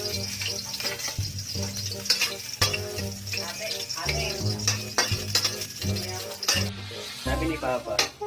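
Garlic sautéing in a pan, steady sizzling with clinks of a utensil stirring against the pan, while a person talks over it.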